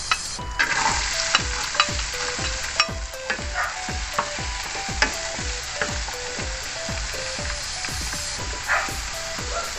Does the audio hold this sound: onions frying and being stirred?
yes